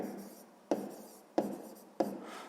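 Handwriting an answer for a sixth-grade math exercise, with soft scratching strokes on paper and three sharper pen-down taps at even intervals, close and quiet.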